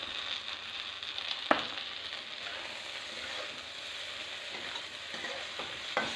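Spicy dry okra (bhindi) frying in a pan is stirred and mixed with a spoon, giving soft scraping and light sizzling with a few sharp clinks of utensil on metal, steady and close, with no talking.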